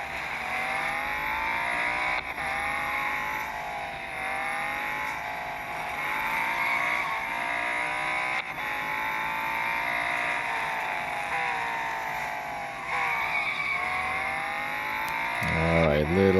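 Race car engine in a driving video game, a steady high whine that rises and falls with gear changes and revs, with a swelling tyre skid near the end, alone throughout.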